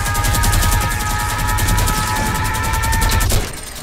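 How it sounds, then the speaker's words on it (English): A minigun in Fortnite fires a sustained rapid burst, loud, close and rhythmic, rattling continuously for over three seconds before cutting off abruptly. "No counterplay minigun."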